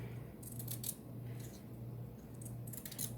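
Scissors cut out fabric for a sewing a mask, a few quiet snipping strokes in short bursts over a low steady hum, close and faint.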